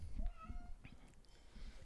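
A cat meows indoors, a few short faint calls blended with low room noise and soft movement, in a kitchen setting where a man calls the animal.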